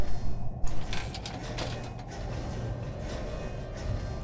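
Crank turning a clockwork mechanism open in the puzzle adventure game Clockwork Tales, a steady grinding mechanical churn with ratcheting creaks throughout, fairly loud and alone with no talk.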